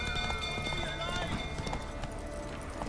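Hooves of Roach, Geralt's horse, clip-clop steadily in The Witcher 3 against a busy game background of music and ambient noise, with speech-like voices mixed in.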